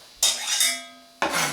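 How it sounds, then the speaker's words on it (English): A broad-bladed Chinese pepper knife scrapes and stirs food in a pan like a spatula, giving three loud bursts of metallic scraping and sizzle with a short lull between them. "you can use it like a spatula, as I'm doing now"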